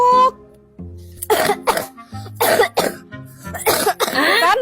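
A child coughs repeatedly in a burst of harsh, close coughs after eating ice cream, with short pauses between them and a brief voice at the start.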